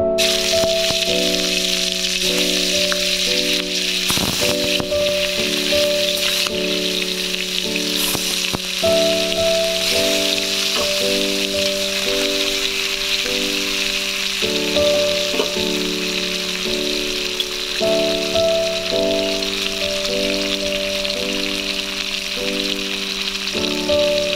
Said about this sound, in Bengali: আমার কড়াইতে তেলটা গরম হয়ে গেছে, এবার আমি মাছগুলো এক এক করে ছেড়ে দেবো।